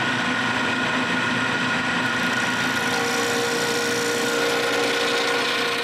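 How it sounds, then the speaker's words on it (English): Wood lathe spinning a hexagonal blank into a round cylinder for a fishing rod rack, a loud steady motor hum with continuous cutting hiss throughout, close and without talk. "Then I can put this hexagon on my lathe and turn a round cylinder."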